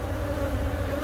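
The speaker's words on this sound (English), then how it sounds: "These bees are buzzing." Bees hum in a dense, steady drone throughout a brief moment of a hive removal, close and fairly loud with no speech.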